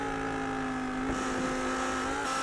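Race car engines, including an Audi, drone at Road Atlanta in a sim racing game, a steady tonal whine held at moderate distance, with a brief swell as a car passes mid-way.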